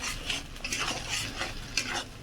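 Ginger garlic paste frying in a pan with oil while a spoon stirs it, giving soft sizzling with a few scraping strokes against the metal, close and fairly quiet.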